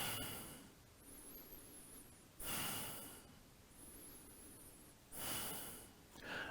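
Slow, audible breaths drawn in during a yoga side bend, with three louder exhales standing out against a quiet room, paced a couple of seconds apart.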